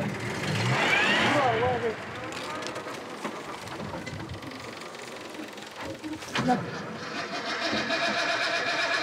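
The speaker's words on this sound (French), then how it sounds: "La voiture ne veut plus démarrer." An old car's engine in Namibia cranks in a burst of rough sputtering that never catches, followed by several seconds of quieter mechanical rattling and background noise.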